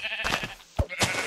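Sheep bleating in a video game: a couple of short, nasal bleats in quick succession, moderately loud against a busy game background, without speech.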